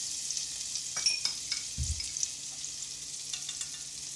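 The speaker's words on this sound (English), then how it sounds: "So to that oil, you're going to add a tablespoon of red pepper" Red pepper frying in hot oil and butter, a steady hiss of sizzling with a few soft stirring scrapes and a low thump, no voices.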